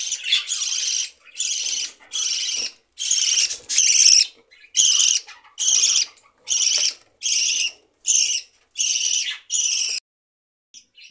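A flock of budgerigars gathering to drink water, giving bursts of shrill high chirping and chatter in a steady rhythm of short clusters, close and loud, with a brief pause at the end.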